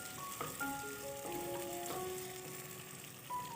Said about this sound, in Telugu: ఎండుమిర్చి వేసాను. ఒకసారి కలుపుతున్నాను.